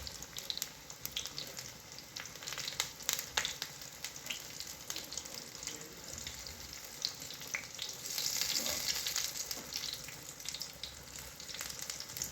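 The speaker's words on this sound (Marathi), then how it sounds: "कमी याच्यावर गॅसवर तळून घ्यायचं आणि चांगल्या प्रकारे तळल्या जातात" Elephant creeper leaf vadis sizzle in oil over a gas stove, with a steady crackling hiss and occasional brief clinks, continuing without talk.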